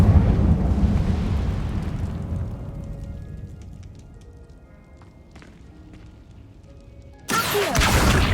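The Incendio fire spell in Hogwarts Legacy ignites with a loud roaring whoosh of flame that slowly dies away over several seconds, followed by a sudden burst of crackling fire noise near the end.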